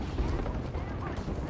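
Gunfire from an EVA-8 shotgun in the video game Apex Legends comes as a fast run of heavy, booming blasts that blur into a continuous rumble of combat, with a player's voice talking over it.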